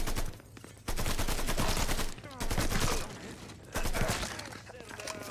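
Gunfire rattles during a firefight in Mafia 3: heavy, sustained volleys of loud shots in several dense bursts, with short lulls between them and a voice faintly mixed in.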